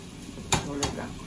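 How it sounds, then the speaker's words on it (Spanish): Chorizo frying in a pan for a sofrito, a soft sizzle with two sharp scrapes of a spoon stirring it, close and clear with no talk. "Cuando se fría un poquito lo vamos a poner un poco de salsa de tomate"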